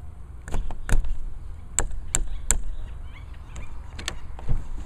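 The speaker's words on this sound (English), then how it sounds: "Knock on the door." Knuckles rap on a door in a series of sharp, uneven knocks, some single and some in quick pairs, over a low rumbling background.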